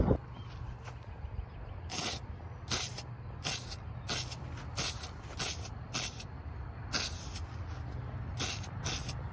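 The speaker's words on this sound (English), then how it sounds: "After spraying the desk frame in, I could not believe it was finished." Repeated short hissing bursts of spray paint on a desk frame, about a dozen in quick succession, over a steady low background hum.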